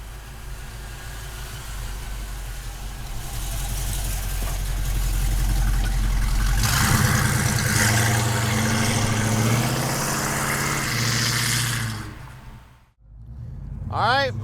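A 1967 Ford Mustang convertible with an aftermarket exhaust system idles with a deep, steady rumble, rising into a louder rev midway before dropping off near the end; a voice speaks faintly over it.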